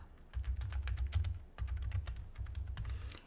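Soft clicking of keys on a computer keyboard as a request message is typed, in quick irregular bursts separated by brief pauses, close and quiet with no speech.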